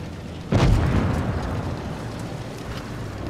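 A single loud tank cannon shot in World of Tanks Blitz, a sharp boom followed by a long rumbling decay under steady background engine noise.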